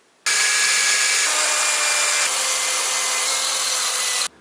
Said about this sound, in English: let's put the speaker in and drill holes for the speakers